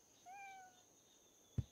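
A faint, distant cat meow in the Hidden Cats street-market game, a single short rising call heard alone over a quiet background, followed by a soft thump.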